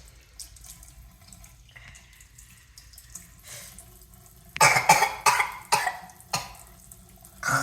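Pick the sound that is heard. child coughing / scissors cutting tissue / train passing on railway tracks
child coughing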